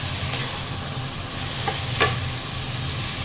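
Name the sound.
stirring frozen lechon kawali frying in a pan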